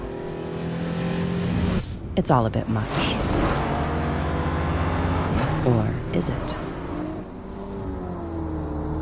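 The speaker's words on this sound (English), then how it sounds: "With 400 horsepower and a twin-turbo V6 engine" A 2024 Infiniti Q50 Sport sedan with a 400-horsepower twin-turbo V6 revs loudly and steadily, with a voice speaking over it almost the whole time.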